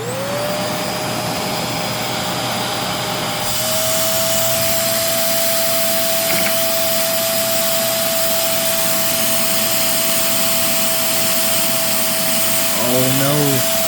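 A LEGO 6x4 inline-two engine runs steadily at high RPM, a loud continuous whirring drone with a sustained mechanical whine that holds throughout, ending in a brief rising clatter.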